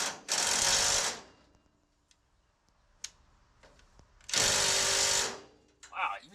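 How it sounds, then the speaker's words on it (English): A Ryobi power tool hammers at tight 13mm body bolts while a VW body is being removed from a Baja RZR. It fires in two loud, sustained bursts with a quieter gap of faint knocks between them. "That Ryobi doesn't have enough torque to get these out"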